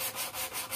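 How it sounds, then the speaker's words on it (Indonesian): Sandpaper rubbed back and forth over a wooden part for a knock-down skylark birdcage, a close, steady rasping with rhythmic strokes and no talk. "Lalu diamplaskan gini."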